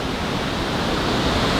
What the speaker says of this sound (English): we made it to the very bottom of the waterfall